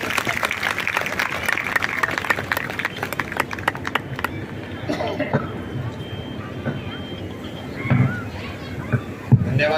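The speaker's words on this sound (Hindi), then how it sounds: "आप सभी लोग तालियों के साथ में डीआरएम सर का स्वागत करें।" Applause welcoming the DRM at a railway SC/ST employees' association event in Kota marking Ambedkar's birth anniversary, dense clapping from a large crowd in the first four seconds, thinning to scattered claps and murmur afterwards.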